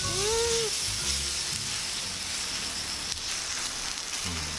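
Korean pancake batter with shredded zucchini and garlic chives frying in hot oil in a farmhouse kitchen on a rainy day, giving a steady close sizzle and hiss with a few faint bumps and clatters and no talking.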